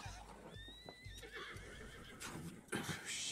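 A horse in the video game Red Dead Redemption 2 neighs with a rising whinny, accompanied by snorts and a few clopping hoof sounds, fairly close and clear.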